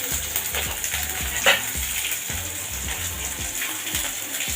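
Dried red chillies and ridge gourd frying in a pan, a steady close sizzle with faint rhythmic scraping of a spatula underneath.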